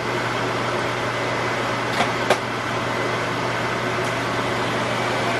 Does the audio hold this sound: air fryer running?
yes